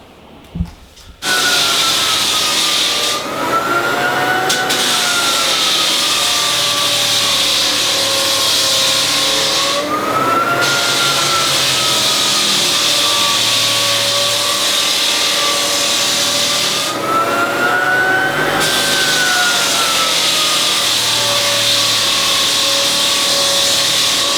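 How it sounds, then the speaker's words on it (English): A floor sander works across a wooden floor against the grain, producing a loud, continuous close motor whine with a wavering pitch that rises and falls as the machine is pushed back and forth, after a brief start-up. "I'm going to try and sand the rest of this floor now"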